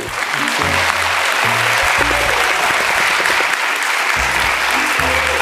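Studio audience applause on a daytime talk show, a dense sustained wash of many hands clapping at steady loudness throughout, with low tonal music or voices faintly underneath.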